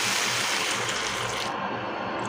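Water pours into a cooking pot for a Filipino fish stew, a brief splashing gush that cuts off partway through.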